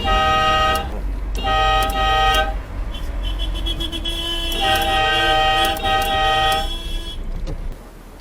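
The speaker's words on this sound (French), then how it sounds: "Et si t'appuies fort, ça fait un gros klaxon." Loud car horn honks close by during the 2019 Budapest Rally: a few long blasts with short gaps, over a low running engine rumble.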